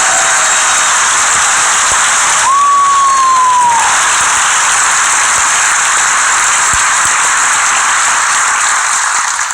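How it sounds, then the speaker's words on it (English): Loud applause and cheering from a large convention crowd at Star Wars Celebration Orlando 2017 for Christy Golden and Steve Blank, a continuous hissing roar of clapping with a brief whistle partway through. "Please give a round of applause to Christy Golden and Steve Blank."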